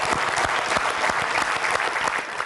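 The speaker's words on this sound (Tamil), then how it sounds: "முதல்ல அதுக்கே ஒரு பெரிய கைத்தட்டல் சொல்லுங்க பார்க்க." Studio audience at a Tamil television talk show claps loudly and continuously, a brief dense burst of hands with distinct individual claps standing out, lasting a couple of seconds.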